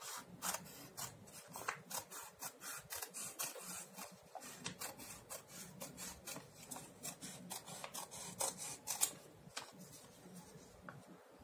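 Paper being snipped with scissors along folded creases for a children's craft, a quick run of crisp, close cuts repeating in an uneven rhythm with no talking.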